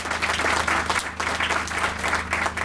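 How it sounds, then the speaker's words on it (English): A crowd at an official sod-turning ceremony for a university development project claps in a sustained round of applause, dense and even from start to finish, filling the room. "Can we give him a round of applause?"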